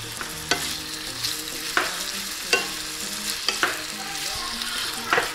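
Large champignon mushrooms frying in a pan are stirred with repeated scraping strokes over a continuous close sizzle, and no one talks.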